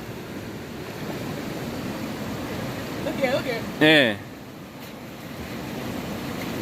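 The Broadstone River flows with a steady, close broadband rush of water, while a person speaks briefly partway through.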